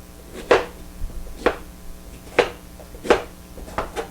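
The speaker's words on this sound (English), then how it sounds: "I have a cup of strawberries, which I'm going to chop up." Strawberries chopped with a knife on a cutting board, five or six sharp close thuds spaced about a second apart over a quiet background, no speech.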